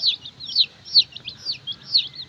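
Many young chicks peep while feeding, a string of shrill, close chirps in quick, uneven bursts with little else behind them.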